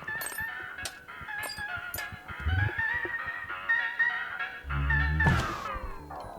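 Geese honk repeatedly in the game Isopod, several nasal calls scattered over a rumbling, busy game soundscape with thunks and a sharp burst near the end.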